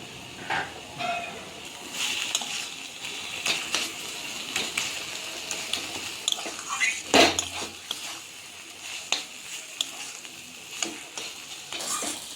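Chickpea leaf greens fry in butter in a pan with a soft steady sizzle, while a utensil stirs and clinks against the pan in irregular taps and scrapes.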